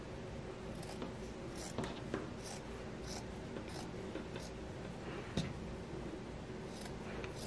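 Scissors snip through material for a Dollar Tree DIY gnome, a few quiet, close cuts and rustles scattered over a soft background.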